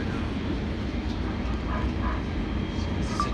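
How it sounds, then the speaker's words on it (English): Kinkisharyo P3010 light rail tram running on the LA Metro Expo Line toward Santa Monica, a steady low rumble of wheels and motors filling the cabin, with a brief chime-like tone near the end. "This is a tram."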